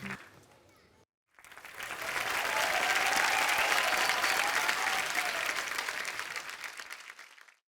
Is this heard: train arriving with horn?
no